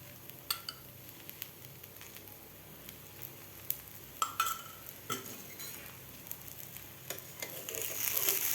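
A cucumber thalipith fries in a little oil on a pan, a quiet, steady sizzle broken by a few sharp clicks and scrapes, swelling slightly toward the end.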